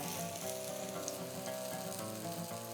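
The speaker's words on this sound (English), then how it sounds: "we will let them fry for about 2 or 3 minutes on a side" Chanukah food frying in oil in a pan, a steady dense sizzle and crackle filling the whole stretch at close range with no voices.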